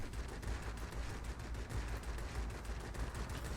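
Continuous rapid machine gun fire from aircraft in World of Warplanes, a dense, fast rattle of shots sustained throughout at low level without speech.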